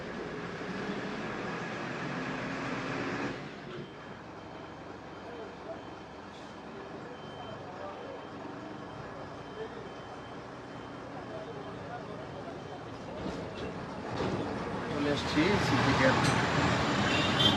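A bus ride in Alleppey, Kerala: a steady engine and road rumble from inside the moving bus, rising louder toward the end, with people talking throughout.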